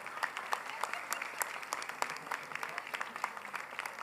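Audience applause at an awards ceremony honoring gurus, a steady crowd of many hands clapping continuously at moderate distance, dense and even throughout.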